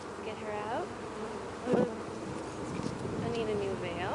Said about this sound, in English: Oh, another bee in my veil.